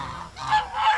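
Farm poultry honk loudly and close by, two or three nasal calls in quick succession.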